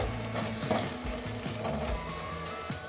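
Tomatoes simmering for an Andhra-style small fish curry are stirred in a pan, with soft scraping and a low bubbling sizzle that runs steadily throughout, quiet and close.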